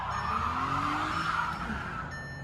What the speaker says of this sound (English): Somebody out there peeling out, they better not hit my car.